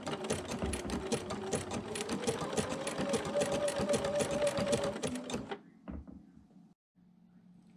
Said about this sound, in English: I'm going to finish stitching this, and then we're going to trim it up.